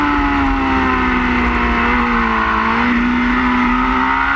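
Racing motorcycle engine on a track at Varano, loud and close, holding a strong sustained tone that dips slightly through a direction change before pulling hard again under acceleration.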